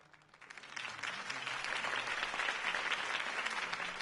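Crowd applause after a campaign speech in a Batman video game on PlayStation 4 swells from quiet to a full, sustained ovation of many clapping hands, heard at a distance.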